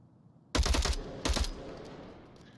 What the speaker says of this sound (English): Now Snow should be keyed into this after hearing enemy gunfire behind them.